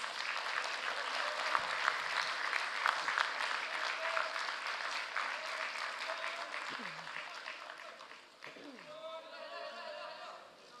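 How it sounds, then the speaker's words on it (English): Dense audience applause fills a conference hall at the closing session of an international economic forum, steady and loud for most of the stretch before thinning out, with a brief spoken voice near the end. "Give them a big round of applause, please."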